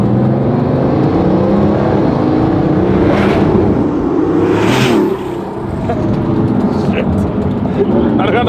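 A flood-damaged Bugatti Veyron engine being run up with boost, a loud, steady roar and whir throughout, with a brief dip in level around the middle before it builds again.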